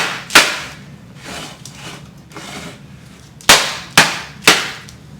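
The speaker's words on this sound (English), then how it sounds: "take your pan and bang it" A pan of macarons is banged on a kitchen counter: one sharp metallic knock, a stretch of soft rustling, then three more hard bangs in quick succession near the end.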